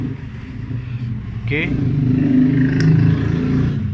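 Cars and motorcycles pass on a road beside a house, a steady engine drone with a vehicle revving past, heard under brief talk.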